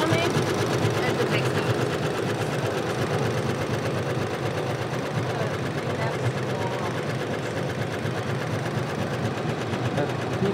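An embroidery sewing machine stitches conductive thread into textile, a loud, steady mechanical whirring and rapid stitching that runs throughout with people talking over it.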